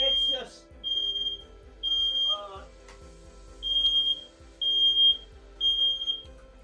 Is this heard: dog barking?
no